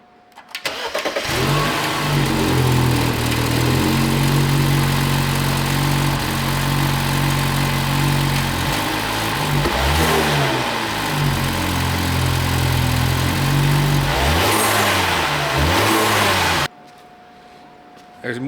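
A car engine runs steadily at idle, then revs up and down in several rising and falling swells before dropping back, loud and close, cutting off near the end.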